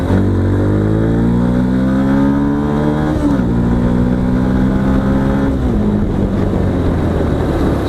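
A Yamaha FZ-X 150cc motorcycle engine revs hard toward 8000 rpm, its loud, close whine climbing in pitch, dipping briefly, then rising again in a sustained high-rev drone.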